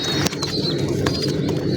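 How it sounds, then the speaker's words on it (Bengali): Caged male racing pigeons give low, soft coos in a short close burst, with a few sharp rustles or wing flaps mixed in. "এটা নর কবুতর, এই নর কবুতরের পায়ে একটা ট্যাগ দেওয়া আছে"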